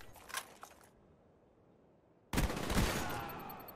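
Rapid gunfire from a video game firing range, a burst of shots early on, then a pause, then a loud, dense volley of automatic fire that continues to the end.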